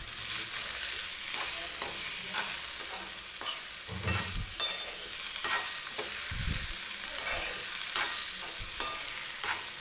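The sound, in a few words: cooked cluster beans stirred and fried in oil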